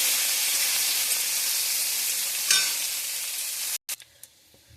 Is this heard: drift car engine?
no